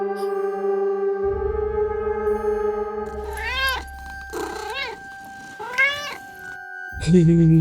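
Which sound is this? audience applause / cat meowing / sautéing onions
cat meowing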